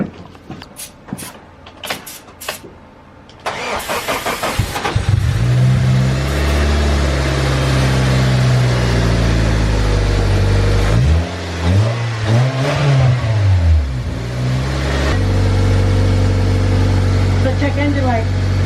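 Honda car engine cranking into life and revving, with clunking and handling noises before a loud, close engine catches and roars through several rises and falls in pitch, people talking over it.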